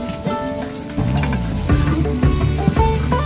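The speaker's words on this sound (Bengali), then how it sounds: "আর এই পাশে মাছগুলো ভাজি হইতেছে" Small fish fry in a pan at a village cooking spot, a steady crackling sizzle that grows louder after the first second, with bursts of popping.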